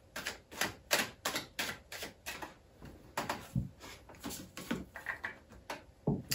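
A deck of tarot cards is cut five times for a five-card spread, giving rapid, crisp card slaps and riffles close to the listener, with no speech.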